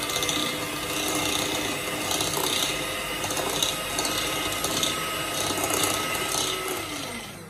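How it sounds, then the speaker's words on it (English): A mixer beats powdered brown and white sugar until fluffy, making a steady, close, grinding whir that runs unbroken throughout, with no speech. "I've added both powdered brown sugar and powdered white sugar, and we are going to beat it until fluffy."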